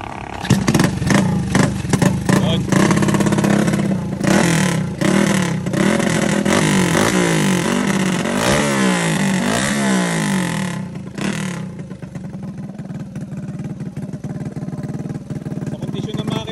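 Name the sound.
147cc trail bike drag build engine revving test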